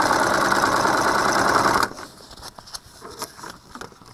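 A sewing machine stitches along a seam in fabric with a loud, fast whirring buzz that stops abruptly, followed by light, scattered handling clicks.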